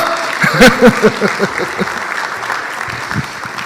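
Audience applause at the Ghana Economic Forum, a burst of clapping that starts with a few sharp individual claps over a voice and settles into softer, scattered clapping from the crowd.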